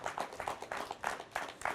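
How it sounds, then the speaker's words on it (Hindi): An audience greets a guest arriving on stage with faint, rhythmic clapping, steady beats repeating every fraction of a second. "तो दर्शकों से निवेदन है कि कृपया जोरदार ताली से उनका स्वागत करें"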